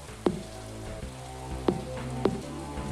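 Green rain falls in a farming video game as a soft, steady patter, with a few sharp droplet pops standing out over the quiet hiss.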